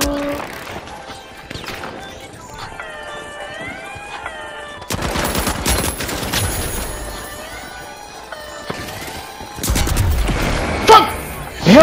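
Bursts of video game gunfire mixed with tonal game sound effects, growing louder in the second half, with players talking and shouting over the shots.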